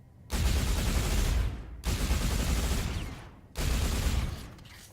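Video game gunfire from two weapons fired at once with a modded controller comes in three sustained, loud bursts of rapid shots, separated by short pauses.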